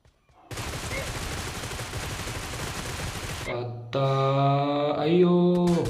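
Sustained rapid automatic gunfire rattles for about three seconds in a BGMI team deathmatch, followed by sharp, ringing in-game weapon and effect sounds, loud and close with no talking.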